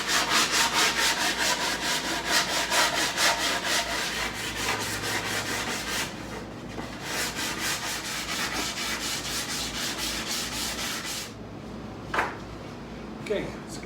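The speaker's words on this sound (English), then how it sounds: "Just gonna give that a light sand" Light hand sanding of a wooden console table part before glue-up, heard as steady back-and-forth rasping strokes in a regular rhythm, close and fairly loud, with a few short pauses and a brief knock near the end.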